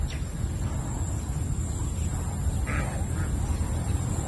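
Domestic ducks quacking at a small farm garden in Naic, Cavite, Philippines, a few short quacks at mid distance over a low, steady background hum, no talk.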